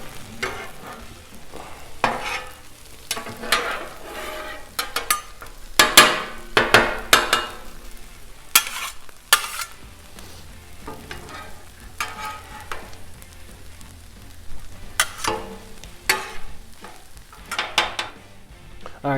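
Thanksgiving leftovers and rolls sizzle on a Blackstone griddle while a metal spatula scrapes, stirs and flips them in sharp, irregular clanks over a steady frying hiss.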